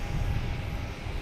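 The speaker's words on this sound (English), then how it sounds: "Here's another flight coming in from" An Embraer E175 jet arriving from Asheville at Boston Logan gives a steady, broad engine roar with a low rumble, heard from a distance without any talk.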